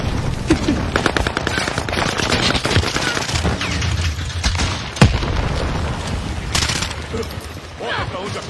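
Call of Duty Warzone gunfire: dense automatic bursts and scattered shots crackle continuously, with occasional sharp booms and loud impacts, while people talk over the action.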